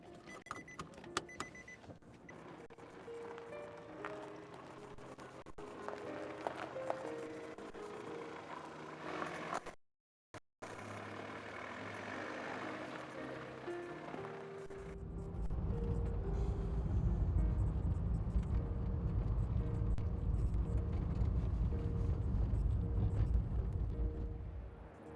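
Quiet car sounds with a mechanical whir like a power window, a brief drop to silence near the middle, then a steadier, louder low engine hum for the last stretch.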